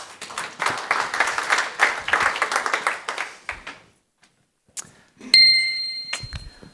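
Applause from a conference audience at a talk on Air France-KLM app modernisation, a few seconds of scattered clapping that fades to silence, followed by bell-like dings and a brief burst of noise.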